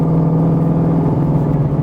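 A Coyote-swapped Fox-body Mustang runs with a steady, loud, close engine drone that holds an even low hum throughout with no clear rise in pitch.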